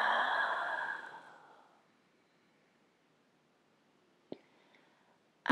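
One long, soft exhale during a yoga routine for leg flexibility fades out over a second or two, followed by near silence broken by a couple of small clicks.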